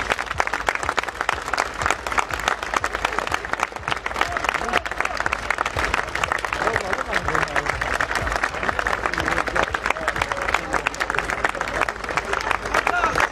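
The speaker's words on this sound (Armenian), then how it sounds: "եկեք ծափ տանք մեկս մյուսին։" A crowd at a political speaking event gives sustained, dense applause that stays loud and steady throughout, with a busy murmur of voices mixed into the clapping.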